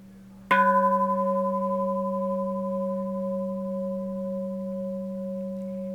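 An antique bronze Japanese Buddhist temple bell is struck once hard, giving a sharp attack and then a steady, long ringing hum with clear sustained overtones that barely fade.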